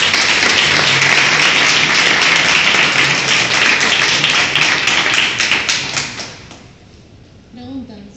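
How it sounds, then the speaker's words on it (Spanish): Applause from an audience at the end of a final project presentation in Bogotá, dense loud clapping for several seconds that thins out and fades, followed by brief talk. "Primero un aplauso, ¿no?"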